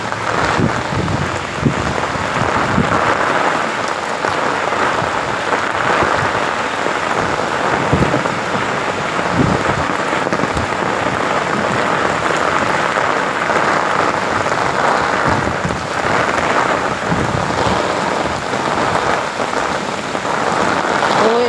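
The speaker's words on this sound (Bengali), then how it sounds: "দেখছো মুসুল ধারে বৃষ্টি হচ্ছে" Heavy rain pours in a constant loud roar of drops, with low rumbling swells that could be distant thunder beneath it.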